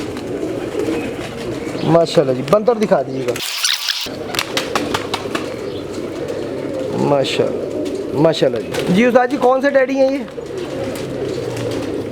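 Pigeons coo in soft, repeated bursts beneath steady conversation between men, with a brief rustle partway through.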